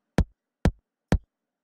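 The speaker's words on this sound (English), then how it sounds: "it's just basically a click we've got here" Three isolated hits of a lo-fi kick drum sample soloed in Logic Pro X, each a short, clicky thump with a quick decay, evenly spaced about half a second apart with silence between.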